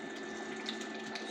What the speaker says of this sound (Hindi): अभी इसमें हम इंशाल्लाह पानी डालेंगे